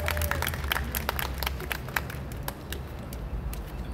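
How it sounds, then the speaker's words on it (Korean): Audience applause at an outdoor political rally in New Zealand calling for Yoon Suk Yeol's arrest, a modest crowd clapping briskly for a few seconds over low background rumble, fading slightly near the end. "박수 한번 다시 한번 부탁드리겠습니다"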